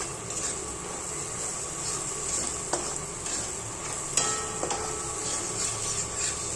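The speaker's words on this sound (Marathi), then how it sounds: "आता बघा तेल सुटेपर्यंत चांगला मसाला फ्राय झाला आहे." Masala spices frying in oil for a peanut curry, a steady close sizzle with scraping stirring strokes and a few sharp clicks of a spoon against the pan, no one speaking.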